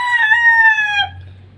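A rooster crows once, loud and close, a single sustained harmonic call that fades out after about a second, from chickens housed in a coop with long wooden perches.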